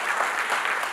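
An audience at a Kannada film event claps steadily, a dense, close burst of applause filling the whole moment with no voices.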